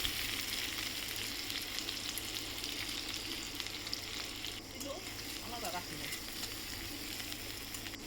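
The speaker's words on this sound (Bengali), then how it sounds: "দেখো পেঁয়াজটা একটু ভেজে নিয়ে" Chopped onion and green chili sizzle steadily in hot oil and ghee in a kadai, a continuous close frying hiss with faint stirring scrapes toward the end.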